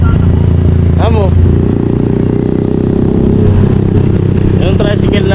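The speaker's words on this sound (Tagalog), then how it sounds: "Yung tricycle na service nila." A motorcycle tricycle used as a service vehicle passes close by with a loud, steady engine drone and some rattling clatter, while people talk over it.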